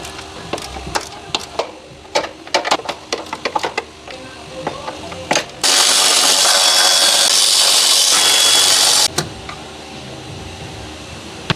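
A power tool loosening 13mm bolts on a PT Cruiser transmission mount: scattered sharp metallic clicks and clanks, then a loud, continuous whirring burst of about three and a half seconds before quieter handling noises.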